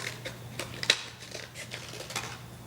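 Scissors snip through paper card in a few quiet, separate cuts at close range. Each cut gives a short crisp click over a low, steady background hum.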